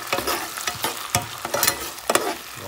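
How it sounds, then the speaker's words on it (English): Ingredients sauteed in a pan while cooking garlic blue crabs, a close sizzle broken by repeated rhythmic stirring scrapes and clinks, no voices. "Gonna saute this and we'll be back."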